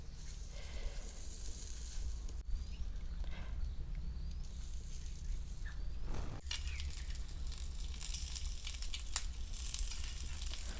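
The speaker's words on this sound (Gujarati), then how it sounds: "હવે આપણે આ ભરીને મરચાં તળ નાખવી." Stuffed green chillies fry in hot oil with a steady, dense sizzle that crackles and pops close up for several seconds, with occasional stirring scrapes and no talk.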